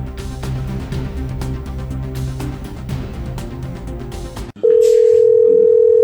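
A telephone line tone sounds as a chief minister calls a complainant, a loud, steady single-pitch tone cutting in abruptly and holding alone after several seconds of busy background music.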